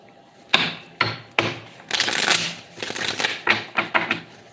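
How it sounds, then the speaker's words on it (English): Tarot cards shuffled by hand in a quiet room, close up: several distinct sharp cut-and-slap bursts, then a longer rustling riffle and a few more quick snaps, with no talking. "I'm going to do 5 shuffles."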